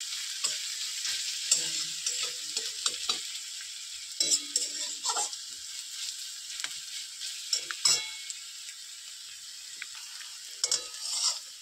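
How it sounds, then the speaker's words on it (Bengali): Chopped onions and garlic sizzle steadily in a hot pan of oil as a spatula stirs and scrapes through them in irregular strokes, close and clear with no voices. "পেঁয়াজ দিয়ে দেবো এটা মতো। দিয়ে ভালোভাবে নেড়ে নেব।"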